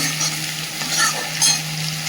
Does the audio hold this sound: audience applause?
no